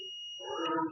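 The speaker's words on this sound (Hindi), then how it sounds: "इस तरफ भी बीप का आवाज आ रहा है," A multimeter beeps during a continuity test while a SAMRAT 150 watt amplifier is being repaired, a steady high electronic tone that cuts off partway through, with a louder buzzing hum rising beneath it.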